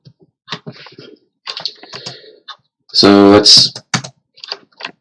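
A computer keyboard clatters as C++ loop code is typed, with a quick run of keystrokes and a louder, denser burst near the middle, close by, while someone talks over and between the typing.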